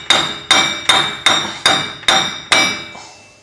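Seven sharp metallic hammer taps strike the axle during a Chevy Silverado front wheel bearing job, evenly spaced about half a second apart, loud and close, each ringing briefly before the last fades out.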